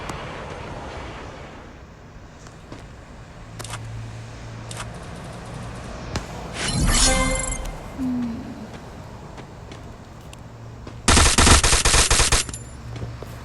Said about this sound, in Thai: มีคนยิง มีคนยิง